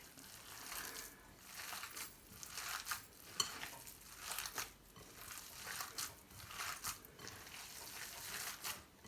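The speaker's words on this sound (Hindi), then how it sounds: "हमने उतनी देर तक इस कीमे को मिक्स करते ही जाना है, यानी कि गूंदते ही जाना है" Mutton mince for seekh kababs being kneaded and squeezed by hand, a soft, wet squishing and crinkling that comes in repeated close, quiet pulses with no talking.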